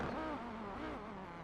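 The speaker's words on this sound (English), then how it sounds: "Lovely sound of that Audi 90." An Audi 90 race car engine at a circuit, a continuous droning note with wavering pitch as the car holds and shifts revs, moderately distant and steady for a brief moment.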